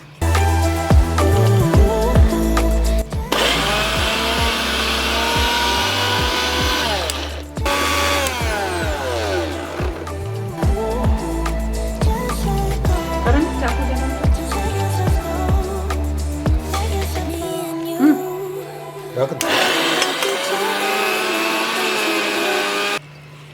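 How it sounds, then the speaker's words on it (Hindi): An electric mixer grinder whirs loudly while grinding crushed churma in a small kitchen, running in steady bursts with brief stops and pitch shifts between runs. "और अब इसे ना जो मीड़ लिया है इसको मिक्सी में पीस लेंगे।"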